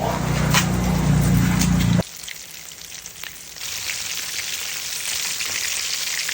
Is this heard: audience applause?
no